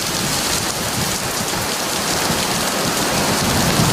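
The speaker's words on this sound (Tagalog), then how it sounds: "Bago mag-alas 7 kagabi, bumuhos ang malakas na ulan dito sa Tacloban City." Heavy rain pouring down in Tacloban City, a loud, dense and unbroken roar of water hitting surfaces, steady throughout with no voices.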